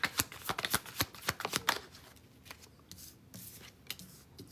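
A deck of tarot cards is shuffled by hand during a live reading, a quick run of crisp, close riffling snaps that then eases into softer, sparser rustles, quiet with no talk.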